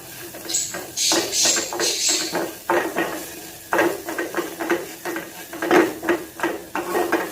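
Garlic greens frying on low heat, with repeated close metallic scrapes and clinks of a spatula against the pan in an uneven rhythm over a soft sizzle.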